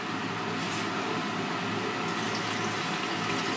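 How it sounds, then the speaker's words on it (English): Distilled water pours steadily onto gold granules in a container during gold refining, making a continuous close hiss and trickle that stays even throughout. "what we'll do is add some distilled water"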